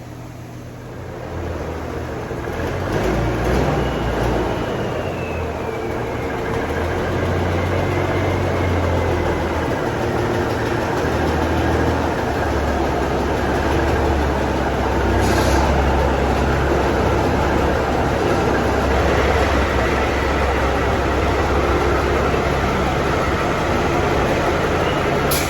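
A Case 4070B tractor with no power steering pulls in with its engine running, a steady loud low rumble that stays close and constant throughout with no talk over it.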